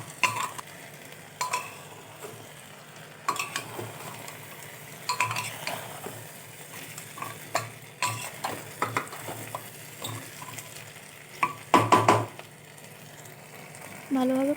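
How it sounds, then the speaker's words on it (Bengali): Potatoes and vegetables stir-fried in a pressure cooker for chicken pulao, with intermittent scraping and clinking of a spoon against the metal pot over a faint sizzle, no voices. "ভাজা আলু আর সমস্ত ভাজা সবজিগুলো প্রেসার কুকারের মধ্যে দিয়ে আমি ভালোভাবে"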